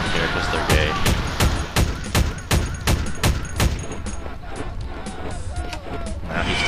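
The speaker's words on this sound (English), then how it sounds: "use the assault rifle and kill the flamethrower guys" Assault rifle fire in a video game mod: a rapid string of sharp, loud shots in quick bursts, fairly close, with game ambience underneath and no pause for the first four seconds.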